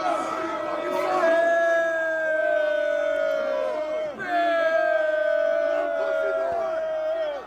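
A packed venue crowd roars in a sustained, loud wave of booing and yelling, with long sliding howls that swell, dip briefly near the middle, then surge again and hold throughout.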